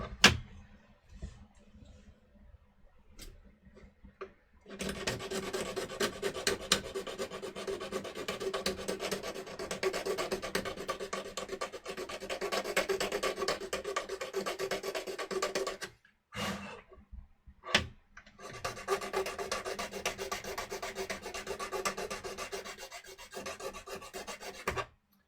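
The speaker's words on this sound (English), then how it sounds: "That actually needs more filing." A file rasps steadily against a Wii console part being cut down for a Wii HDMI V0.3 prototype mod, close and continuous, with a short break before the filing strokes resume.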